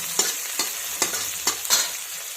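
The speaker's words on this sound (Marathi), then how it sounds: "टोमॅटो छान परतून झालेला आहे।" Tomatoes are sautéed and stirred in a pan while a dry broad bean pod vegetable dish is cooked, giving a soft sizzle broken by five rhythmic scraping stirs, each close and distinct.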